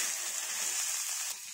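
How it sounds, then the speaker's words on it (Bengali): Boiled chickpeas hitting a hot pan for Bengali cholar ghugni and frying in oil, a steady broad sizzle that holds evenly and eases slightly near the end, close and without voices. "এবার আমি সেদ্ধ করা ছোলাটাকে দিয়ে দিচ্ছি।"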